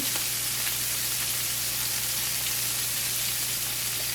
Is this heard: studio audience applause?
no